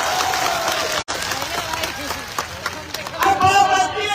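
A crowd at a farmers' rally in Alwar bursts into sustained applause and cheering, a dense wash of clapping that briefly drops out and then swells louder near the end.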